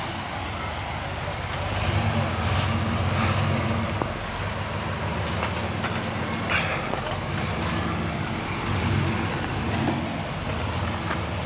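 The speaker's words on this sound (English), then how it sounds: "We got to try to get it back on the road." A wrecked truck being driven back up onto the road from where it went off, near a flooded creek, with a steady engine rumble and surging throttle that rises in bursts around it.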